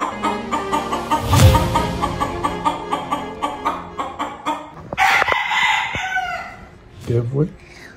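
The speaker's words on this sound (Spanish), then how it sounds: "Un gallo no me dejó dormir." A rooster crows loudly and close, a long drawn-out call, followed by more crowing and clucking from nearby fowl.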